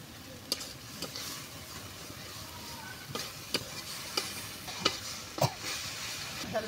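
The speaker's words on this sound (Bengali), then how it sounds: "মশলা কষানো হয়ে গেছে" Masala spice paste frying in a pan with a little water, a soft continuous sizzle broken by intermittent scraping and clinks of a spoon stirring against the pan, fairly quiet and close.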